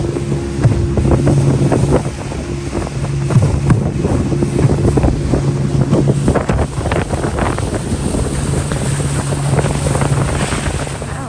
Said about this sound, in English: we're jet boating back across to our